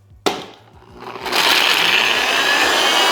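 A Ninja blender, used while making a chocolate cream pie, kicks on with a sharp clack, then roars into a loud, steady, high-pitched whir that holds to the end.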